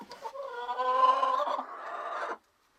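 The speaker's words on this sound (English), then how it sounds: "I have 1 chicken that likes to lay on the floor for some reason." A hen clucks and croons inside a coop, a drawn-out, wavering vocalization lasting a couple of seconds, close and clear before falling silent.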